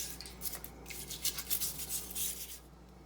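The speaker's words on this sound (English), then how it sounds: "I'll give each stalk a scrub with the brush." Stiff brush scrubbing celery stalks clean under running water, a close, bristly rasp in quick uneven strokes over a low steady hum, with no voices.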